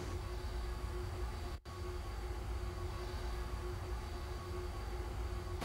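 A simulated R142A New York City subway train on the 5 Express runs steadily in the OpenBVE game, with a continuous rumble and motor drone, one brief dropout, and no talking.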